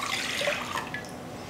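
Water for instant mashed potatoes pours steadily for a short moment, a close, bright splashing stream with no talk over it.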